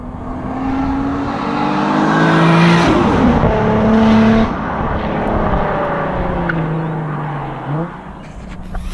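A 500 hp R32 Nissan Skyline GT-R engine roars and revs through a corner, pitch rising and falling with gear changes, loud and close, with a brief dip near the end.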